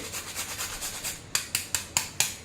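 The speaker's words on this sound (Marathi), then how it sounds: "लगेच असं ताजं ताजं जायफळ किसून घालायचं आहे" Fresh nutmeg being grated for date and dry fruit laddu, first a run of soft even rubbing strokes, then five sharper scraping rasps in a steady rhythm, close up and alone.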